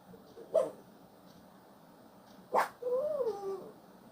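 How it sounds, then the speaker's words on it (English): A small pet dog makes a couple of short sharp yips followed by a wavering whine, fairly close and alone in a quiet room. "I apologize for my noisy doggy."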